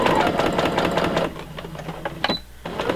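A sewing machine stitches through the layers of a fabric zippered pouch, running in a steady close mechanical whir that slows and stops near the end.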